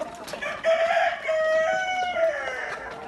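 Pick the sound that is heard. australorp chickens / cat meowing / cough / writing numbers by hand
australorp chickens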